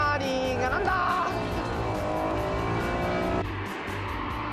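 A Honda NSX and a Ferrari Testarossa racing on a track: loud, close engine whine with shifting, rising pitch and a faint hint of tire noise, continuous throughout.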